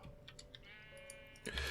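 A sheep in the video game TerraFirmaCraft gives a short wavering bleat in the middle of the clip, quiet and close, alongside faint ticking clicks, and a louder thump closes it.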